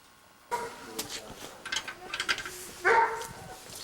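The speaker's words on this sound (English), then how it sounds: "Some chickens and a barking dog." A dog barks a few times at a distance amid outdoor background noise and people talking, with a louder bark near the end.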